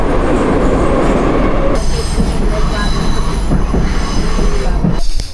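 A subway train pulling into a station with marble platforms and no platform doors, loud rumbling wheels with high metallic squealing, a sudden shift as the brakes engage, and the roar continuing close by.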